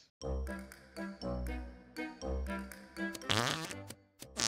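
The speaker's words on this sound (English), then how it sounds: "How are you farting?" Several cartoonish fart noises from the Goose Goose Duck video game come in a quick series, each a low buzzy blurt, followed by a squeakier, wobbling one near the end, close and clear with no talking.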